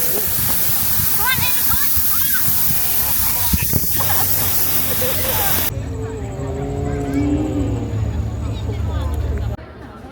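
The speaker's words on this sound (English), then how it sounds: "There's a water show now. It's going on, taking place." A night water show fountain at Osaka Expo 2025 sprays with a broad, steady hiss of rushing water, while crowd chatter and talking mix in around it throughout.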